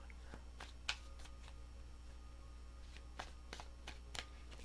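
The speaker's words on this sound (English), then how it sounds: "Three shuffles." Tarot cards are shuffled by hand in a quiet room, a few faint, brief riffling and tapping sounds over a low steady hum.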